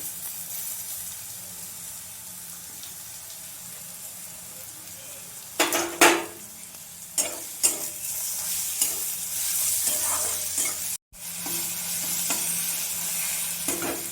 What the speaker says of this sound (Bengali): পেঁয়াজটা অনেকটা ভাজা হয়ে গেছে, দিয়ে দেবো রসুনটা থেতো করে রেখেছিলাম, রসুনটা দিয়ে দেবো।